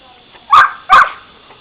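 A dog named Lola gives two sharp, loud barks in quick succession while playing a chase game, close by.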